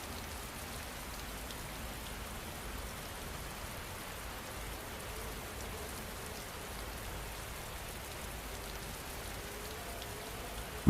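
Steady rain falls continuously, a soft even hiss of drops on surfaces with no pauses, moderately faint and alone.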